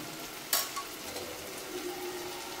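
Mushroom pasta masala sautéing in a pan, a soft steady sizzle with a sharp clink of a utensil early on and faint stirring scrapes, quiet and close.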